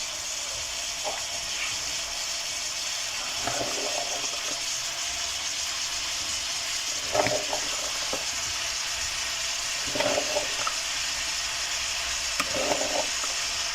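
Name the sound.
peas added to stir-frying mixed vegetables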